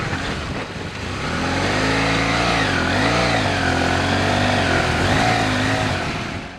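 Strong engine of a BMW R 1200 GS or Yamaha Super Tenere adventure motorcycle riding outback terrain, a loud, steady droning roar with rising and falling revs close by.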